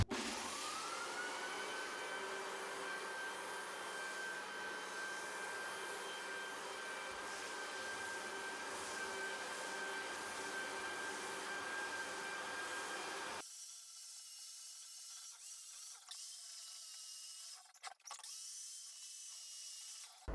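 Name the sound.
floor sander sanding hardwood floor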